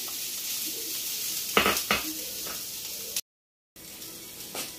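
Rice and lightly cooked crunchy vegetables stir-frying in a pan, a steady sizzle broken by a few clinks and scrapes of a spoon against the pan, close by with no voices, cut by a brief silent gap.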